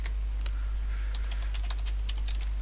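Quick, uneven keystrokes on a computer keyboard click in short bursts against a low steady hum, close and fairly quiet, with no talking.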